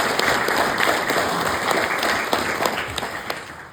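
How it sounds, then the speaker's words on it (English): Loud, dense audience applause at a mayor's annual Christmas address, honoring the Minister of Health, sustained clapping from a large crowd with a few sharper nearby claps standing out. "Can you please give Bridgehead a round of applause for the Minister of Health?"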